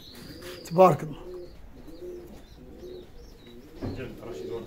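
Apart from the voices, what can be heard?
pigeons cooing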